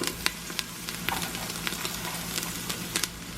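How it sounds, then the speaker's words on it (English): Sausage and bacon frying in a pan, a soft steady sizzle with scattered sharp pops and spits, heard close and fairly quiet with no talking. "The sausage and the bacon is almost ready."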